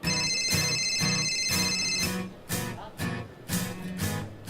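A telephone ringtone trills in quick repeated bursts, loud and close, with a short pause before the pattern continues; no one speaks.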